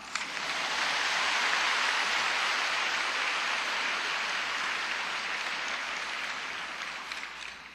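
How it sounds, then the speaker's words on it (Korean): A church congregation breaks into sustained applause, a dense wash of clapping that holds steady for several seconds before tapering slightly. "어쨌든 많은 위로의 박수 부탁드립니다."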